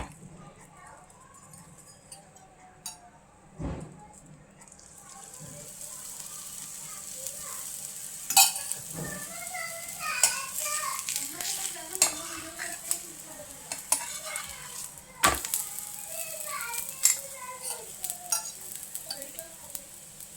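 A quiet sizzle of egg-stuffed parathas frying on a hot griddle, with occasional scrapes and clinks of a utensil; faint voices in the background.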